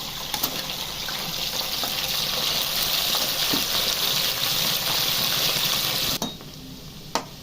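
Chicken pieces for Telugu chicken pickle dropped into hot oil in a kadai, a loud continuous deep-fry sizzle with stirring clinks, cutting off abruptly near the end followed by a single clatter.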